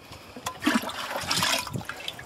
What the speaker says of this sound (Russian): и выливаем в 10-литровое ведро воды